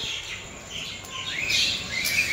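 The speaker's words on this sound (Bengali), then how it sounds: "প্রচুর শালিক পাখি দেখো" Myna birds chirp and call in a series of bright, quick notes outdoors on a morning walk, moderately close, with soft ambient background and no talking.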